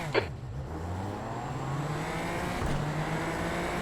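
Super Formula Light open-wheel race car in the iRacing sim pulling away from a standing start at Algarve, engine note rising steadily and loud for several seconds under a constant roar.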